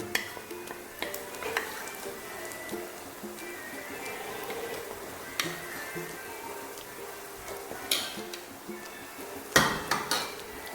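Coriander powder is stirred into frying chicken curry masala for a Kerala-style chicken curry, with a constant sizzle under irregular scrapes and sharp clinks of a spoon against the pan, several knocks standing out clearly near the end.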